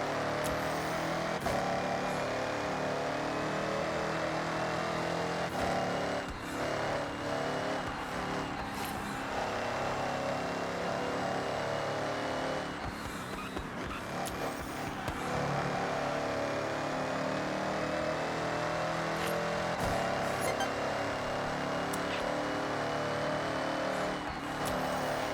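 A car driving in the racing game Forza Horizon 6, a continuous engine drone that swells and eases as it revs and shifts, steady and moderately quiet throughout, with no talking.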